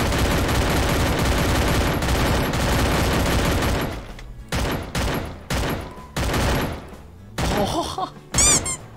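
Rapid automatic gunfire in the shooting game Free Fire, a dense continuous fusillade that breaks into short separate bursts with gaps, followed by squeaky game sound effects near the end.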